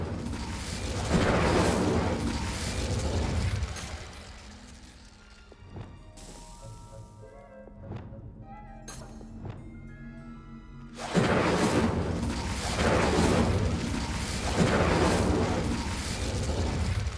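An Incendio fire spell in Hogwarts Legacy erupts in loud whooshing blasts of flame, then drops into a quieter spell-casting lull with sharp magical zaps before another heavy roaring burst returns.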